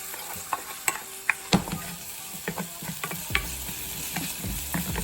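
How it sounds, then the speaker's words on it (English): A spoon stirs garlic, salt and pepper in a hot pan, a soft steady sizzle broken by irregular scraping and clinking strokes, fairly quiet and close, with no talking. "Then from there, we're just going to go ahead and get that all stirred up."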